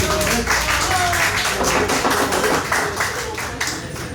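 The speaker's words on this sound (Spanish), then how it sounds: "Un aplauso, por favor." An audience at a party-base gathering over roast chicken applauds in a dense, steady patter of hand claps, moderately close and unbroken, tapering slightly toward the end.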